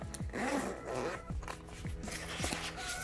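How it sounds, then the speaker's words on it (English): A bag's zipper is drawn closed in a few quick, close rasping strokes, with brief pauses and soft handling between pulls. "So zip it up."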